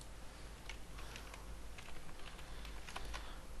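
Soft, quick keystrokes on a computer keyboard tap out code in a quiet room, faint clicks spaced irregularly over a low steady hum.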